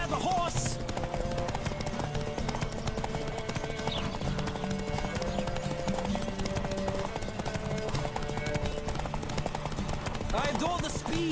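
Rhythmic hoofbeats of a galloping horse in The Witcher 3: Wild Hunt pound steadily over background music, with a brief whinny near the start and end.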